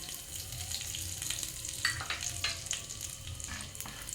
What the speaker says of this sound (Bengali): এবার এই তেলেই দিয়ে দেবো আমি ফোড়নের জন্য কিছু কালো জিরে।